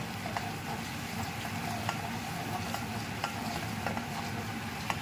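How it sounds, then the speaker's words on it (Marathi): Sliced green chillies fry with mutton in a pan, giving a soft, steady sizzle with small crackles and occasional stirring scrapes, faint and continuous. "मधून काप चिरलेल्या हिरव्या मिरच्या टाकायच्या. त्या पण चांगल्या फ्राय होऊ द्यायच्या."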